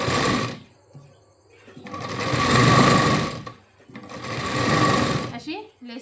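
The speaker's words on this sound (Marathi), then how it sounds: "अशी लेसवर सरळ टिप देऊन घ्यायची" A sewing machine runs a straight line of stitching along lace on a wedding blouse sleeve, in three loud, steady bursts separated by brief pauses.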